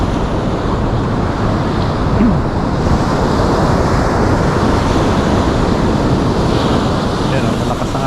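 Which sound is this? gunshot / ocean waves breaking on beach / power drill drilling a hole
ocean waves breaking on beach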